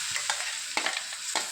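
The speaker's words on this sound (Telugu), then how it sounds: "ఈ మామిడికాయ పచ్చడిని ఈ విధంగా కలుపుకుంటూ మగ్గించుకోవాలి" Mango and dried red chilli pickle mixture is stirred in a pan over a low flame, with three or four distinct scraping strokes cutting through a steady, close background sizzle; nobody speaks.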